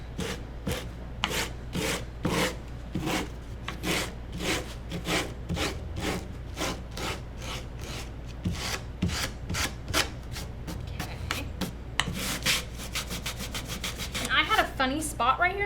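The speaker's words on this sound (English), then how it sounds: "I'm gonna just take my sander and scratch off some heavy spots in that area to kind of mask it." Rapid rhythmic rasping and scraping as a sander scratches paint off a stenciled wooden Christmas sign, close and steady throughout with a denser burst of scraping near the end.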